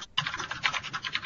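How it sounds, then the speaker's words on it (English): Typing on a computer keyboard during an online meeting: quick, rhythmic clicking keystrokes in close succession, heard alone and close up. "I'm typing, sorry."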